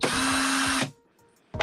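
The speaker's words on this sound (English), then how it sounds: "I have my trusty drill here." A cordless battery-powered drill spins up, whining steadily for under a second at close range before releasing, then briefly revving again at the end, with no talking.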